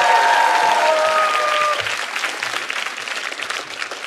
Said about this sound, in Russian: И эти аплодисменты тоже ваши.